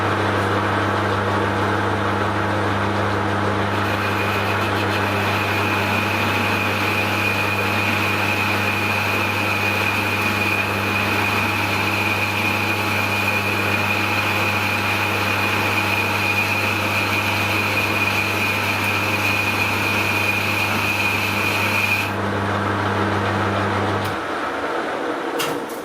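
A metal lathe turns steady and loud while a small boring bar pecks into a bore on a Ferguson tractor wet sleeve puller part, with a constant motor hum and a whining tone that drops away near the end.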